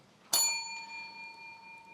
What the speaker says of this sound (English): Is that the last bell?